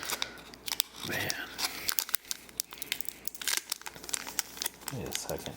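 A Lorcana Rise of the Floodborn booster pack is torn open close by in a quiet room, with sharp crinkling foil and ripping bursts scattered across the moment.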